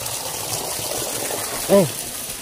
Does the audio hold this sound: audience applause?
no